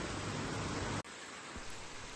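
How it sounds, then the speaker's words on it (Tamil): Heavy rain pours down as a window is opened, a dense, loud, steady hiss that briefly cuts out and then continues slightly softer. "ஜனலை திறக்கிறேன் எப்படி அடிக்கிட்டு பாருங்க செம்ம மழை"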